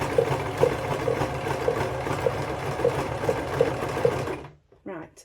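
A sewing machine runs steadily up close, stitching fabric strips for a jellyroll rug made from a thrifted duvet cover, with a rapid mechanical chatter and regular ticks before it stops near the end.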